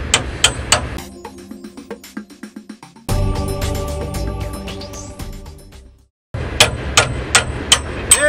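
A hammer bangs on a rusty school bus shock absorber, first with rapid close metallic strikes, then a sustained ringing clang that fades to silence, followed by another burst of sharp repeated blows.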